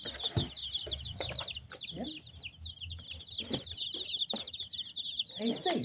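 Four-day-old Pesadão and red naked neck chicks cheep constantly in high, rapid peeps, close by, with occasional soft handling noises.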